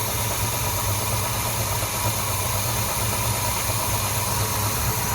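A 1972 Chevrolet Nova with a big block engine and newly installed carburetor idles steadily up close, a loud, even rumble with a low throbbing pulse and no voices.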